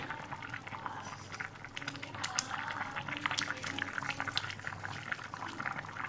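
A pot of curry with lentil fritters (bor) simmering, a steady soft bubbling and gurgling with occasional small pops, faint and close.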